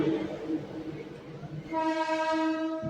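A local train running between Puducherry and Chennai Egmore rumbles along, then a sustained horn blast rises over the running noise and holds to the end.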